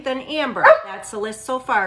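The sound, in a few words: dog barking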